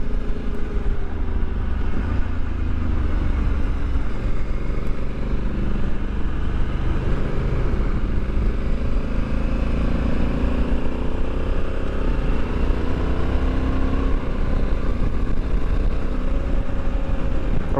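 A 2021 Honda Africa Twin Adventure Sports ES DCT motorcycle cruises along on tour, a steady engine hum mixed with rushing wind and road noise, continuous and fairly loud with no talking.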